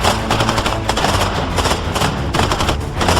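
Suppressive fire crackles in a battle as bursts of automatic gunfire and rapid single shots overlap in a loud, dense, continuous barrage.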